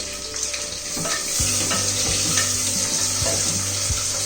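Chopped onion hitting hot oil in a pan with bay leaf for palak rice, a loud close sizzle that swells and holds steady, with a few metallic clinks and stirring knocks.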